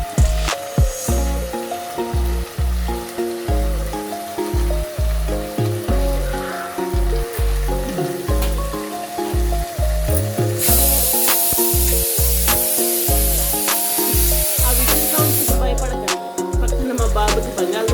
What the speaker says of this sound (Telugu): ఆ ముక్కల్ని గిన్నెలో వేసుకుని మగ్గబెట్టుకోవాలి.